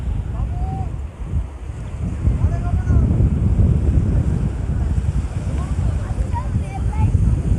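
Sea waves roll steadily onto the quiet Henry's Island beach at Bakkhali while strong wind buffets the microphone, a constant loud roar with faint distant voices and a few bird calls.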